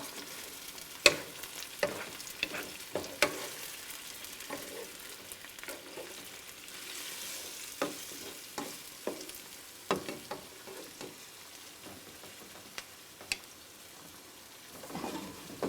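Peppers with a splash of vinegar simmer in a pan for peperonata, a steady soft sizzle and bubble running throughout, with scattered sharp clicks and scrapes of a utensil against the pan.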